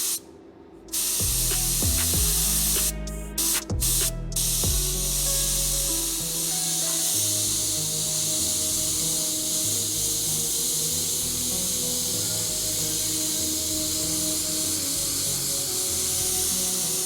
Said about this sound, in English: I'm gonna spray the rest of this with the big boy gun